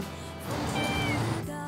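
A cat gives one sustained, fairly loud meow that rises and then settles, heard close up and almost alone, over a steady hum.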